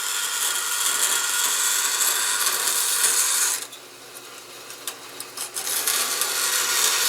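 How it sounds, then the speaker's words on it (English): A hacksaw cuts soft, annealed metal in a forge workshop: a continuous harsh rasping at first, then it drops to quieter, separate back-and-forth strokes with brief pauses. "No, this is a hacksaw. It's made specifically for cutting metal."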